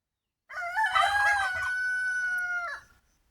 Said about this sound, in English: Rooster chicken, taki gobo sound, rooster chicken crow.